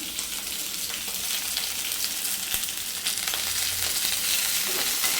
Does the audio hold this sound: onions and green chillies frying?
yes